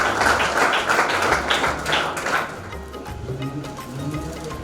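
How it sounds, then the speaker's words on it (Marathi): An audience claps for a prize winner of a school chess competition receiving a cash prize and bouquet: a burst of lively hand clapping that tapers off after about two seconds into quieter room noise. "आपण हे टाळ्या वाजवून"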